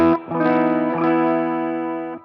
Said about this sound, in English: this is the clean sound of the amplifier.